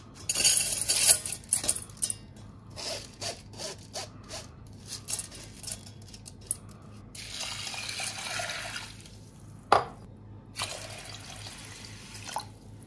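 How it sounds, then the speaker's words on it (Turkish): Water splashes and trickles as lentils are rinsed and swirled in a bowl, with intermittent clinks and clatter of a utensil against the dish. "Şimdi mercimeklerimi güzelce yıkayıp geliyorum."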